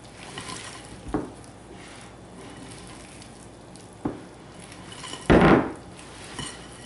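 Zucchini being folded into batter in a mixing bowl, with a few distinct utensil knocks and scrapes against the bowl, one louder scrape near the end, over quiet background and no talk.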